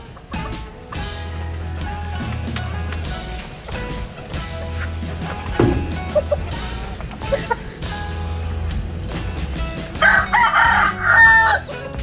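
Native chickens on a farm, with repeated clucking and a rooster crowing over steady background noise, the calls rising louder toward the end.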